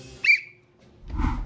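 A single short, sharp whistle blast rings out as a signal for players to spin around in a comedy challenge game, followed by a burst of rustling, shuffling movement.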